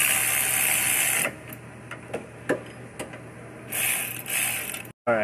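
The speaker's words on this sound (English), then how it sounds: "And then I'll snug them up by hand." A hand ratchet snugs bolts in an auto body shop, its rapid clicking pawl coming in close, loud bursts separated by short pauses and single clicks.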